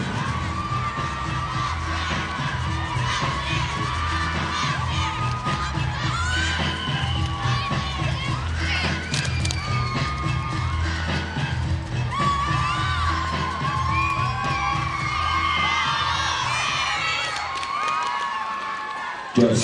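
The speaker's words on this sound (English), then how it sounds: "please put your hands together for Just Cheer All-Stars from our senior small" A cheerleading competition crowd at an all-star senior small division event cheers, whoops and claps loudly and continuously, with shrill shouts and screams rising over the sustained roar.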